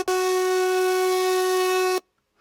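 A distorted vocal one-shot played as a sampler instrument in Serum with no effects: a single steady, buzzy synth-like tone held for about two seconds, loud and alone, then cut off abruptly.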